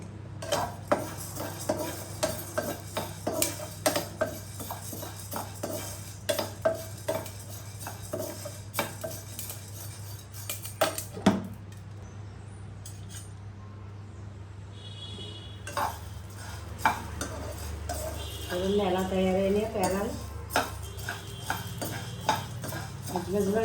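Sorghum grains popping in a pan at home as they are stirred, giving scattered sharp pops and metallic scraping clinks against a steady low hum, with a voice talking at times.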